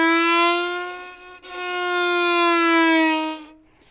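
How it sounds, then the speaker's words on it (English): A violin played for a spooky horror-film score glides between pitches on the fingerboard, producing a sustained, bright bowed tone with a brief dip in the middle before it carries on and fades. "It's a glide on the fingerboard from one pitch to another and sounds like this."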